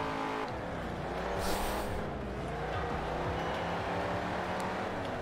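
A Dodge muscle car engine races in the video game Forza Horizon 4, roaring steadily with rising and falling revs and a brief burst of tire noise, loud and continuous with no talk.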